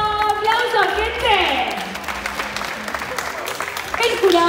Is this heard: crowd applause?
yes